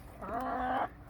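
A single short, faint hen cluck at a chicken coop, a brief tonal call in light background ambience.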